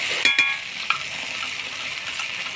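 Sour yogurt added to cashew, melon seed and poppy-seed paste frying in oil, a continuous close sizzle with light clinks and scrapes of a spoon against the pan.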